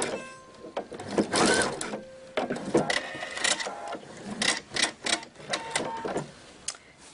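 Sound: sewing machine sewing around a belt bag

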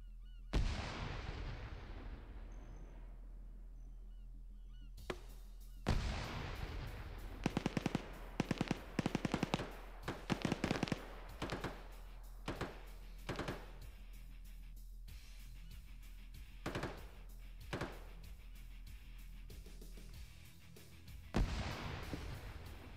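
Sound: grenades and gunfire in a war video game

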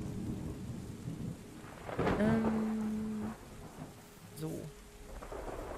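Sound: thunderstorm sounds in video game Terra Nil

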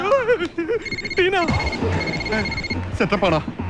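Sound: phone ringing

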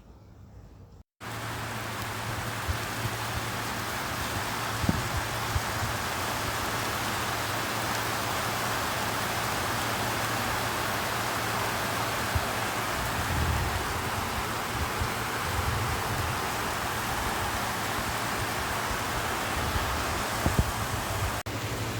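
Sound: heavy rain falling on a tin roof

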